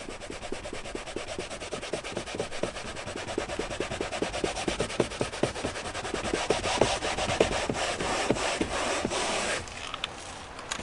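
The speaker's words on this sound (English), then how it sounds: "There are a couple heavier stains here, so I'm going to go ahead and use the scrubbing pad for that." A scrubbing pad works heavier stains on a leather car seat with fast, rhythmic back-and-forth rubbing strokes, close and steady, ending abruptly near the end.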